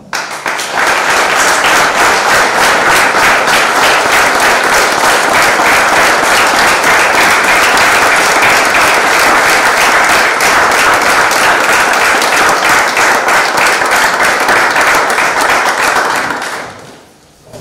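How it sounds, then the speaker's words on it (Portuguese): A church congregation bursts into loud, dense applause at a feast-day homily, sustained evenly for many seconds before tapering off abruptly near the end. "Demos uma salva de palmas."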